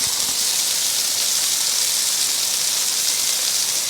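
Beef patties for smash burgers sizzle loudly on a hot griddle, a strong, continuous bright hiss that holds steady throughout without pauses.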